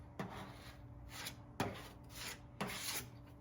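Plastic spreader pressed and dragged across body filler on the dented panels of a Nissan 350z, three firm scraping strokes about a second apart, close and fairly quiet with no talk.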